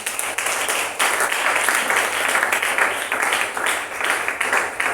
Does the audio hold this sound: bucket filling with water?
no